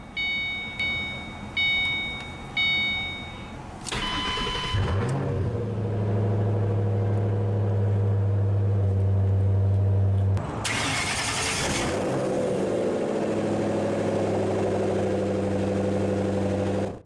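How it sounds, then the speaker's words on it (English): A 2009 Ford Mustang Shelby GT500 convertible engine with a loud exhaust: a few chime tones, then a starter crank and a roaring catch settling into a deep, throbbing idle, followed by a sharp rev and another steady idle. "This thing, the exhaust on it is super loud."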